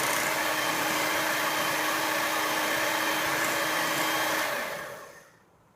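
Electric hand beater whirring steadily through egg yolks being beaten into fruit cake batter, a loud continuous motor drone that fades out and stops near the end.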